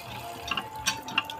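Water running while fish is washed in a home kitchen, a soft steady trickle with a few light splashes and drips, faint and close, no speech.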